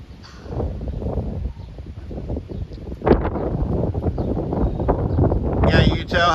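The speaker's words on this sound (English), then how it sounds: "you can tell how breezy it is right now" Breezy outdoor wind ahead of a possible derecho storm, a steady rushing gust roar buffeting the microphone throughout, swelling louder near the end, with faint rustling and bird calls in the background.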